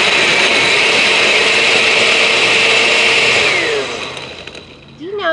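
A kitchen blender, a 26-year-old model, crushes about three cups of ice for a banana daiquiri. It gives a loud, steady roar that cuts out near the end, and a voice is heard briefly afterward.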